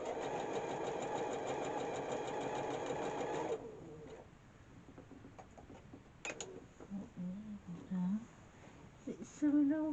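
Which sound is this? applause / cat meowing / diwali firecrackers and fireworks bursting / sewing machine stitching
sewing machine stitching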